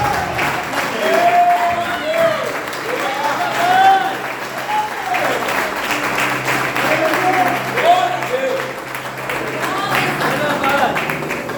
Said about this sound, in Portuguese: dá uma salva de palmas para Deus